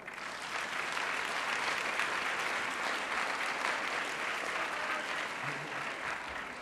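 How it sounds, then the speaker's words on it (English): Audience applause at a mayoral event fills the room with steady, dense clapping that holds at an even level from start to finish, with no voices on top. "Please give a round of applause to Herb Schultz."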